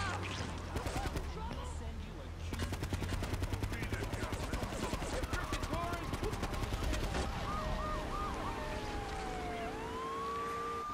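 Gunfire in Grand Theft Auto: The Trilogy, dense rapid automatic bursts running through the middle of the clip amid a sustained siren and game ambience, with a rising wail toward the end.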